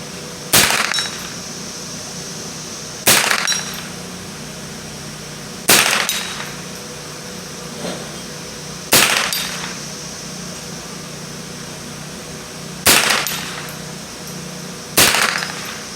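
Six sharp .22 rifle shots from an S&W M&P 15-22 ring out at irregular intervals, each a loud crack with a short metallic ring from a 2-inch square steel target at 75 yards.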